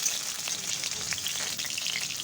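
Pointed gourd (potol) pieces frying in hot oil, a steady close sizzle with fine crackling pops throughout.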